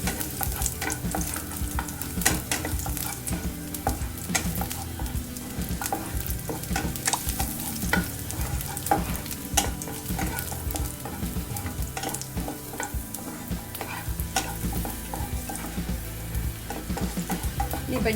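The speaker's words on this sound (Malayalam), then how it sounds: "അപ്പം ഈ നെയ്യും ഈ ഗാർലിക്കും കൂടെ വഴണ്ട് കഴിയുമ്പോൾ നല്ലൊരു ഫ്ലേവറാണ്." Garlic sautéing in ghee for vegetable fried rice, a dense, constant crackling sizzle with steady stirring scrapes throughout, close and uninterrupted by speech.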